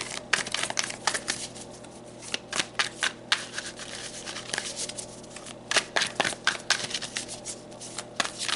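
Tarot cards shuffled by hand, a steady run of papery riffles and soft slaps with brief pauses, close and clear with no talking.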